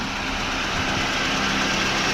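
Old car engine idling steadily, a continuous rough low rumble with vibration, close and alone with no talk.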